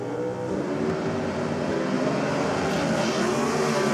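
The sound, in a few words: drag racing Ford Mustang with small block Chevrolet engine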